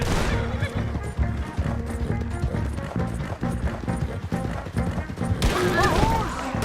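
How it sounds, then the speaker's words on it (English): Galloping horse hoofbeats pound in a rapid, close clip-clop during a shootout in Red Dead Redemption II, with sharp gunshot cracks mixed in and shouting voices layered over the action. "A horse!"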